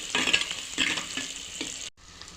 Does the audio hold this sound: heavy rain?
no